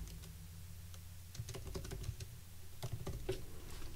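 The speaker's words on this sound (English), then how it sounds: "We'll type something in." Quiet, close typing on a computer keyboard while entering an annotation, a quick irregular patter of soft key clicks with small bursts and short gaps.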